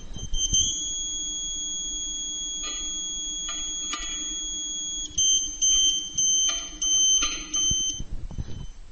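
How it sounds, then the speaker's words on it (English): Satellite antenna pointing beeper on a Tooway SurfBeam2 installation: a high electronic tone holds steady for several seconds, then breaks into short repeated beeps with gaps, clear and close with a low hum beneath. "Change direction until you hear the continuous tone, and keep going until the beeper tone drops again"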